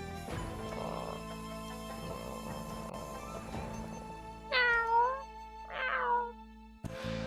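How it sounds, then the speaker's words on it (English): A cat meows twice in the middle of a stream with game audio, each meow a sharp, rising and falling cry, close and clear above a steady background of game sounds. "Hey, we got a kitty cat."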